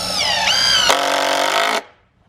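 A power tool driving screws into a stone-and-mortar build, a loud close whine that rises in pitch and then cuts off abruptly.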